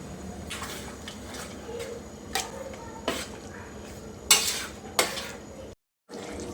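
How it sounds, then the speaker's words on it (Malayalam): A metal spoon scrapes and knocks through cooked bone-in meat in a pan, with several sharp clinks against the rim over a soft sizzle, then a brief silence before the scraping resumes. "നല്ലതുപോലെ ഒന്ന് മിക്സ് ചെയ്ത് കൊടുക്കാം"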